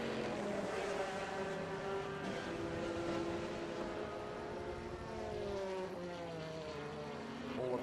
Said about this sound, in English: Corvette sounds so good.